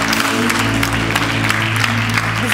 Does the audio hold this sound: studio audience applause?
yes